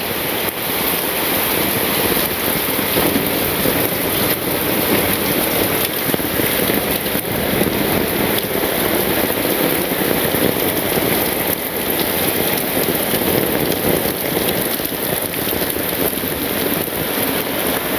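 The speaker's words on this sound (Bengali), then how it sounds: "কি অবস্থা, একবার সাদা হয়ে নামছে বৃষ্টি।" Heavy rain pours down steadily over a Bangladeshi village in the rainy season, a dense, even roar of drops on surfaces that fills the whole stretch without a break.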